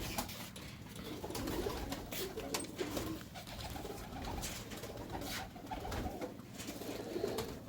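Special pigeons brought from Lahore to a loft for pairing coo low and steadily in the background, half-buried under broad rustling and crackling noise throughout.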